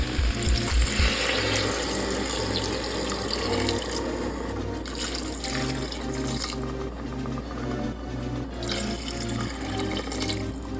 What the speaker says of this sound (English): I'm going to go ahead and add in my water